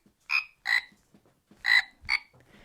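A frog croaking four times in two pairs, loud, clear and near, with silence between the croaks.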